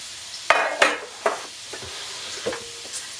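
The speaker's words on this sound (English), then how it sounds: "So, there's our bacon frying up" Bacon fries in a cast iron pan, heard as a faint sizzle beneath several sharp clinks and scrapes of a utensil stirring against the pan, fairly close, with no talking.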